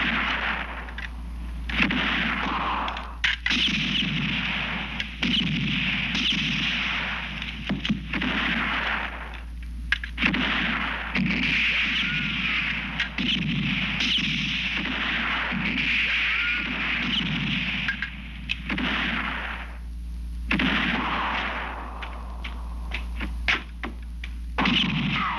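Rifle gunfire in a shootout from a classic western film, with repeated heavy booming shots and echoing reports under a constant dense soundtrack of music and effects, no clear talking.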